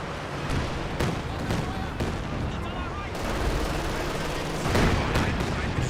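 Artillery barrage in the video game Company of Heroes 2, a rapid string of booming shell impacts and bursts rolling continuously, fairly loud, with a commentator's voice running underneath.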